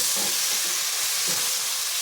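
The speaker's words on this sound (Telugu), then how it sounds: "మంటను హైలోనే ఉంచి మగ్గనివ్వండి" Tomatoes with salt and chilli powder sizzle steadily in a pan over a high flame for a brinjal and chickpea curry, a close, continuous hissing fry with soft bubbling and no talk.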